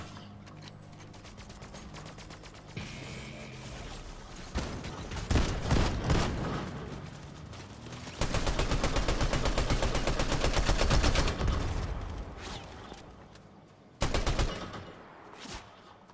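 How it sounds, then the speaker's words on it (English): Gunfire in the Fortnite video game, with dense rapid bursts of automatic shots and heavier booming volleys that rise and fall over a constant game background, no speech. "Gunshots up ahead at Frenzy Field"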